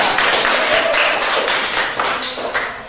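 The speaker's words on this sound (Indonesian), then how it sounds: "Berikan tepuk tangan lagi buat kelompok 2 ya." Classmates applaud a student group after its presentation on technology in a classroom, a dense, steady patter of many hands clapping close by that stays fairly even throughout.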